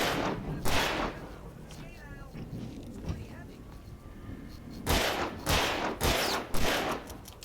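Pistol gunshots in the video game Alan Wake Remastered, a handful of sharp bursts spread through the clip over a dense game background, with speech and whispering around them.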